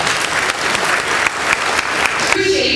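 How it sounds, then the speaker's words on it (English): Applause from an audience at a church-related Founders' Day ceremony, dense steady clapping that fills the clip and stops abruptly near the end. "let's give United Methodist Church a round of applause."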